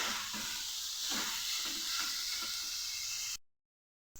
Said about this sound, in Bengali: এবার এটাকে গ্যাসের ফ্লেমটাকে একদম হাই করে এটাকে অনবরত নাড়তে নাড়তে 5 মিনিট ফ্রাই করব